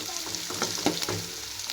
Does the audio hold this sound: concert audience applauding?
no